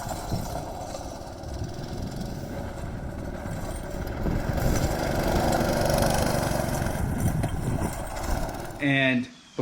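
Small engine on a motorized drift trike running steadily at close range with a rough, buzzing drone that swells slightly midway, then cuts out near the end, with a voice briefly heard.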